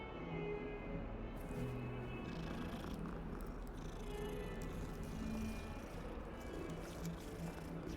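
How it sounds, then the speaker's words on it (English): Cats purring in the Hogwarts Legacy video game, a steady low rumbling purr running continuously and softly throughout, faint and close with no clear meows. "Cats."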